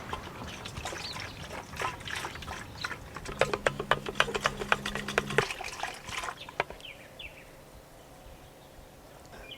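A water container holding a dissolving plant solution is shaken and stirred, producing rhythmic sloshing and rattling splashes that build and then stop, followed by quieter background, with no talking.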